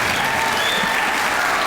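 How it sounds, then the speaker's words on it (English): Audience applause at a sixth-grade graduation ceremony, a steady, dense wash of clapping that holds evenly for the whole short stretch with no voices over it. "Okay, round of applause."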